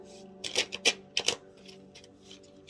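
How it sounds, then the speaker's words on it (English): A few quick bursts of oracle cards being shuffled, close by, with short riffling flutters and soft slaps in quick succession. "let me give a quick shuffle"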